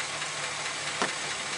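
An idling 6.0 liter V8 with noisy lifters gives a steady, close engine hum with a fine, rapid ticking texture and one brief sharper knock partway through, no voices.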